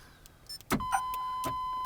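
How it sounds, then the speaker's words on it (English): Door locks on a car fitted with a Viper alarm system actuate as the alarm is armed, giving a sharp thunk followed by a second clunk, with a steady electronic tone running beneath after the first click. "it locks the doors, turns the alarm on."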